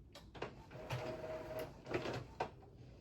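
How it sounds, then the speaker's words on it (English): Home printer running loudly, mechanical whirring with a few sharp clicks and feed bursts over about three seconds, fairly close and alone without voices. "my printer is so loud"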